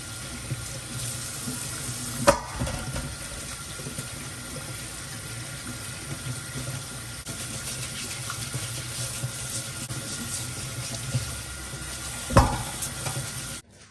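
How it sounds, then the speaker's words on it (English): Beetroots and ginger washed by hand under a running kitchen tap, a steady close splash of water with a few louder knocks and rubbing sounds as the roots are handled. "So now we're gonna go ahead and wash them before we blend them."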